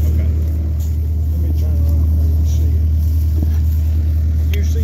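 A backhoe digging a hole for a radio tower, its diesel engine rumbling steadily and loudly throughout, with faint scraping and clanks over the continuous drone.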